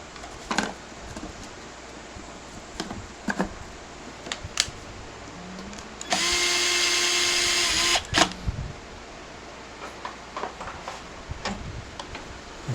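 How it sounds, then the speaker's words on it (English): An old 1-horsepower table saw fitted with a Craftsman Model 3263 wobble dado blade makes a roughly two-second cut, a steady whining roar standing out between scattered quiet ticks and clicks. "This is an old 1 horsepower saw, but it sure does cut straight and true"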